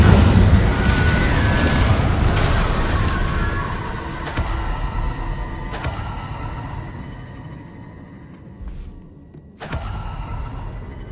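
Spell blasts in Hogwarts Legacy from fire and blasting charms, a run of loud booming bursts with sharp attacks over a dense, rumbling combat bed, decaying into quieter ambience before one more hit near the end.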